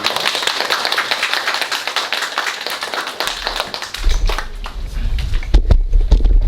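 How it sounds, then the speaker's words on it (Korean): Audience clapping welcomes a company CEO at a children's reporter press event, dense rapid claps from a near crowd that grow heavier and more scattered toward the end. "우리 힘찬 박수로 대표님 모시겠습니다."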